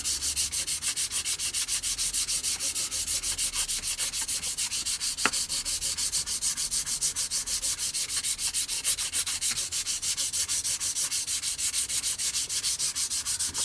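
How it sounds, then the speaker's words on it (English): Steady, rhythmic scraping of a Flory Models medium sander worked back and forth over a model glider wing's trailing edge, close and continuous with fast even strokes and no talking. "we're just going to sand using Flory Models medium sander"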